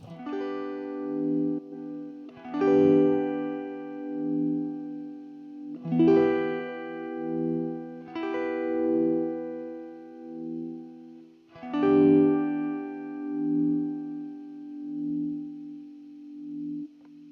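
A sustained electric instrument plays slow chords, each swelling and wavering with a pulsing vibrato effect, ringing out between strums.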